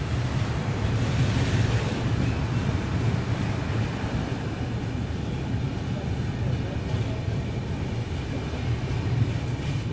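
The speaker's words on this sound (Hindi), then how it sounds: "कोकराझार रेलवे स्टेशन अपनी ट्रेन निकल चुकी है" The Dibrugarh Rajdhani train pulls out of Kokrajhar railway station with a steady, dense rolling rumble mixed with gusty wind noise, sustained at moderate loudness for the whole stretch.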